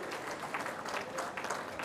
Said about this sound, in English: Can I have a round of applause for this panel, ladies and gentlemen?